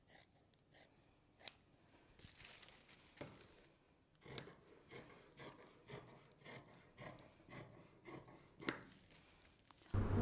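Scissors snipping through dress fabric to cut pattern pieces for a princess-seam dress, a quiet series of uneven close cuts and rustles with short pauses between them and no talking.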